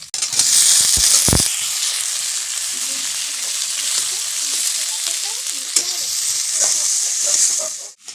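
Raw potatoes dropped into a frying pan of hot oil with chillies and chilli flakes, a loud steady sizzle with a couple of sharp knocks early on and stirring scrapes throughout.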